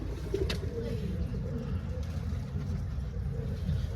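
Pigeon chicks coo in low, soft, continuous murmurs at close range over a faint background hum, with no one speaking.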